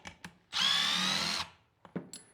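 A Klein Tools KNECT power tool whirs in a single loud, steady burst of about a second while driving a bolt, with faint clicks and handling noise before and after.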